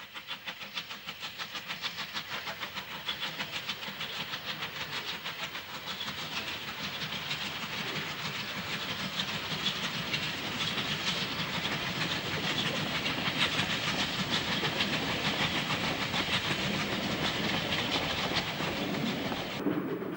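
Two Bulleid Pacific steam locomotives, West Country Bude and Battle of Britain Biggin Hill, haul a special train south on the Somerset & Dorset line in 1966. A steady, loud rumble with rhythmic clatter and hiss builds over the whole stretch.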